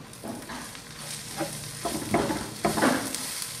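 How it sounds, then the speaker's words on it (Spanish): Chopped onion goes into a pan of frying machaca meat, raising a steady sizzle with several scraping stirs and a louder crackle near the end; no voices. "Vamos a agregar lo que es la cebollita"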